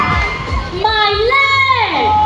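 A crowd at a costume award ceremony shouts and cheers loudly, with one high, strained voice yelling out above the noise of the audience.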